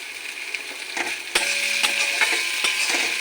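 Salt being stirred into a spice masala frying for a dried fish chutney: a spatula scrapes and taps against the pan over a constant sizzle, with a few sharp clanks and no talking.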